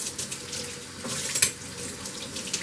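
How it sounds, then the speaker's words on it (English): A spoon being rinsed under a running kitchen tap during salsa canning, a steady close splashing stream of water with small clinks and spatters, no talking. "Just wash my spoon off."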